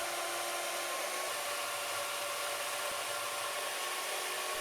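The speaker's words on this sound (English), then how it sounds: "made the cut freehand on the bandsaw" A bandsaw cutting angled steel or walnut pieces freehand in a workshop, a steady, loud whirring hiss with a constant broadband rasp and no speech.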